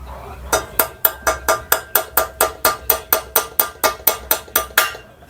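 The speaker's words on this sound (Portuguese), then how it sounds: "Pega um martelinho de bronze, ok?" A small bronze hammer taps a motorcycle engine bearing shell into place on a Honda CB400 engine, about eighteen even, sharp metallic knocks in a steady rhythm, close and clear with no talking.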